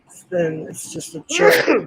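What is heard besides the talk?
sneeze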